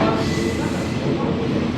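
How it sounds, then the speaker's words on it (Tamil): A freight train on the Thailand to Malaysia line rumbles past close by, a dense continuous roar of rolling cars with no break. "இது சாமான ஏற்றி கொண்டு போகிற ட்ரெயின்."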